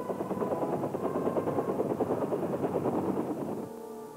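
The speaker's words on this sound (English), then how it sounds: "the choppers would come in with more" Military helicopters fly in with a loud, steady rotor thump that fills most of the stretch, then cuts off sharply near the end, leaving a lower hum.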